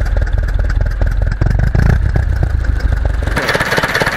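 A restored Ursus C 360 tractor, revived after standing idle for an unknown time and with its pump repaired, runs loud and close with a rough, rapidly thumping diesel beat and metallic clatter.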